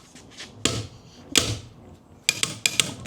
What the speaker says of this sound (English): Let's put the torque wrench on them again and just whack them back up.